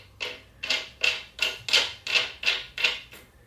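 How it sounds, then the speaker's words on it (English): A threaded knob on a Scangrip rolling tripod being turned tight, giving eight evenly spaced raspy ratcheting strokes about every 0.4 seconds, close and fairly quiet with no voices. "I'm going to tighten it."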